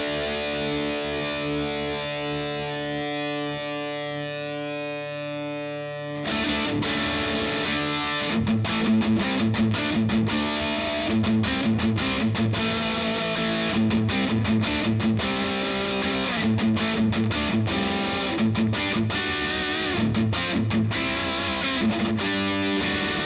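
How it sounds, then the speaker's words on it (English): An electric guitar plays through a Boss DS-1 distortion pedal with the distortion maxed. A sustained chord rings first, then a heavily saturated, buzzing riff of choppy chords and notes with brief gaps follows, loud and alone. "Let's get the distortion all the way up and let's see how that sounds like."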